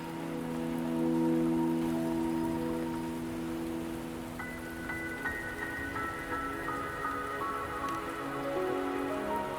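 Steady rain in the video game Wuthering Waves patters on a surface, with sustained tonal music playing underneath and a brighter melodic line entering midway.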